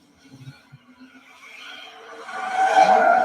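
A car engine sound effect from Avengers: Endgame, quiet at first, then swelling into a louder revving, tire-squealing rush over a few seconds, heard alone without talk.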